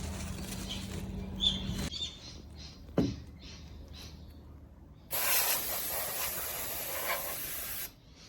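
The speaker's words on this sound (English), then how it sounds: "Now I'll give the cords a wipe down and a blowout with some compressed air" Compressed air blasts dust off the cords inside a vintage XT or 286 computer: soft handling noises and a brief knock first, then a loud, close, steady hiss for about three seconds that cuts off sharply.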